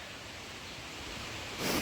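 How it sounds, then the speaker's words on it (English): A hidden waterfall on a mountain trail in Grand Teton National Park rushes steadily as a broad, continuous roar, close and fairly loud with no voices, swelling slightly near the end. "There's a really nice waterfall right here."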